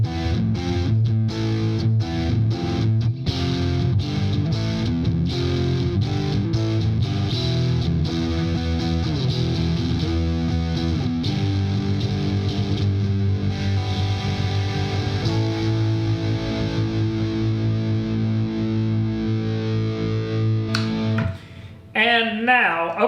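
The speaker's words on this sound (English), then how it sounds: "position 4 with the humbucker engaged, so neck humbucker and middle single coil" A heavily distorted electric guitar with Seymour Duncan Nazgul/Sentient pickups, neck humbucker and middle single coil, plays chugging riffs and sustained chords continuously at full volume, with a brief break near the end.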